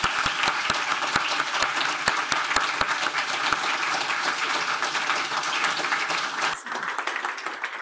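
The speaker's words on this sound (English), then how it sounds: "Give them a hand of applause." Applause for conference organizers at a tech conference closing session, a dense, steady crowd clapping with sharp individual claps standing out, fading slightly near the end.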